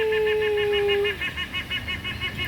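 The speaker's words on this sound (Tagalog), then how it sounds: "yan po ang klaseng ibon yung maingay" A loud, raspy bird call repeats in a steady rapid pulse close by, with a sustained tonal whistle sounding over it at first.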